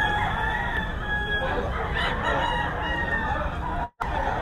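A gamefowl rooster crows at a poultry sale in Bocaue, a steady strained call running over a busy background of other birds and a faint voice, with a brief dropout near the end.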